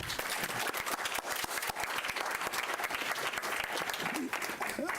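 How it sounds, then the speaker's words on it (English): Audience at a county school board meeting gives sustained applause for outstanding students, dense clapping filling the room at a steady level throughout, with some voices mixed faintly under the claps. "for that, you deserve our applause also."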